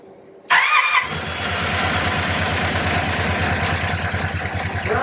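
A project car's engine cranks briefly and then catches, settling into a steady, loud, rhythmic idle close by, with no one talking.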